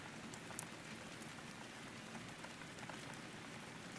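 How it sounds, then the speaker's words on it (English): Rain falling steadily, a dense even patter of drops on a surface with a soft hiss throughout and no talk. "You guys hear the fucking rain?"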